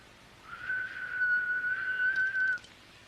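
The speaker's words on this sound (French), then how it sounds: "Maintenant, siffle." A person whistles one clear, sustained note for about two seconds, fairly close and alone against a quiet background.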